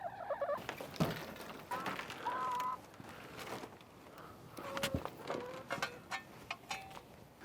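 Chickens clucking and calling inside a homestead chicken coop, with a series of close, varied bird calls across the whole stretch and one or two sharper squawks.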